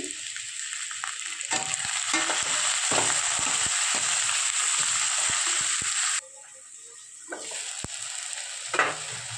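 Potato strips sizzle and fry steadily in a pan as chopped tomatoes go in, a loud continuous crackle with stirring scrapes, then the hiss drops away briefly before faint clatter returns.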